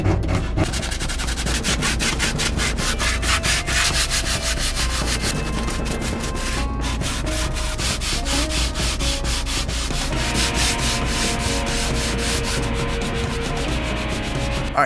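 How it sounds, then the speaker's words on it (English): Hand sanding a rusty metal gas tank from a Ford Torino, a continuous rapid back-and-forth scratchy rasp, close and fairly loud, with brief pauses and no talking. "I didn't think you wanted to see me sanding for so long"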